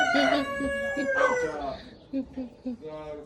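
A rooster crows loudly and close by, its drawn-out call followed by a few shorter clucks and cries.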